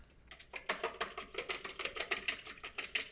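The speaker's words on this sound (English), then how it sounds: "and you're going to whisk it up." One large egg whisked in a bowl, a steady run of quick, rhythmic clicking strokes heard close and fairly quiet.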